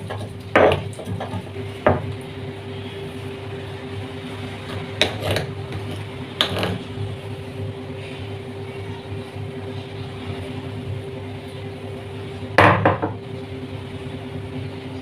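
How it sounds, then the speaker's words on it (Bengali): Ginger being ground by hand on a stone grinding slab, with scattered scraping and knocking strokes at irregular intervals over a steady background drone. "তো আদাটা সুন্দর করে বাটা হয়ে গেল।"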